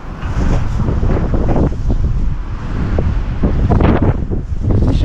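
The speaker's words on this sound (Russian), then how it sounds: "Ветер очень сильный." Strong wind buffets the microphone outdoors, a loud continuous roaring rumble with gusty surges and no talking.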